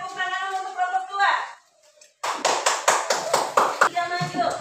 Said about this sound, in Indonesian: Oke, tepuk tangan untuk kelompok dua.